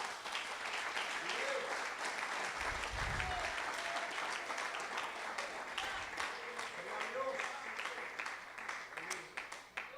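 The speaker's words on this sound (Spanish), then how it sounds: "Denle un aplauso al Jesucristo." Sustained applause from a church congregation fills the whole stretch, dense and steady, with a couple of low thuds and voices faintly mixed in.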